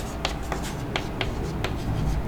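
Chalk or marker strokes on a board during a Hindi physics lesson on electric charge, a series of short scratchy strokes in an irregular rhythm, fairly close, with no speech over them.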